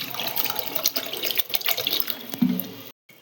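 Cold water poured into a vessel for lemon sherbet, a continuous splashing, gurgling stream close up that cuts off abruptly near the end.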